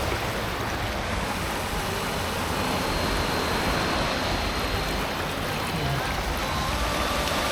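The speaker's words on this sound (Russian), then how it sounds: "Будем прыгать через реку. Здесь она соединяется с морем." A river pours into the sea at its mouth, giving a steady, loud, unbroken wash of rushing water and surf with no voices.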